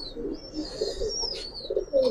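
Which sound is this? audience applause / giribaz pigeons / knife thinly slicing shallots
giribaz pigeons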